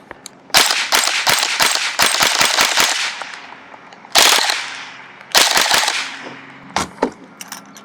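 An Arcturus PP19 airsoft gun with a clicky-style trigger fires close by in loud rapid bursts and quick single shots, the volleys broken by short quiet gaps.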